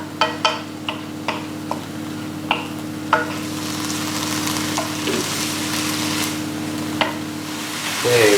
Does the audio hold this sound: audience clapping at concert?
no